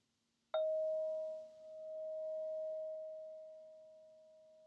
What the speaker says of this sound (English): Let's start as we always do with the sound of a bell.